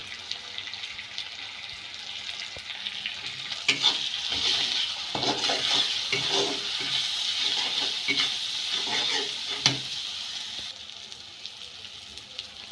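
Chilli powder is stirred into a fish-head and okra curry in a pan, with a continuous sizzling hiss and irregular scraping strokes at close range. There is no talking.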